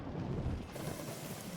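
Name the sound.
thunderstorm in the video game Moonlighter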